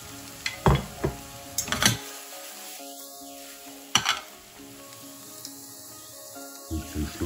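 Onions and mushrooms hitting a hot pan and frying with a soft sizzle, broken by sharp clatters of a utensil stirring and scraping the pan, with quieter gaps between.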